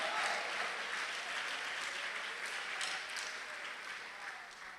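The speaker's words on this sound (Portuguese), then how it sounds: "Vamos aplaudir ao Senhor." A church congregation applauds in a sustained wash of many hands clapping, loud at first and gradually easing off over several seconds.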